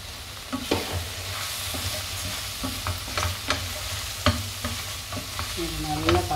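Okra masala with chilli, coriander and cumin powders is sautéed in a pan. A soft, steady sizzle runs throughout, broken by scattered scraping and clinking as a spoon stirs the mixture.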